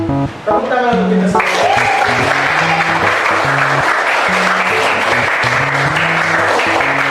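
Applause breaks out in a classroom during an Islamic teacher-training lesson, a dense burst of many hands clapping that starts after a brief voice and carries on steadily, with a voice heard beneath it.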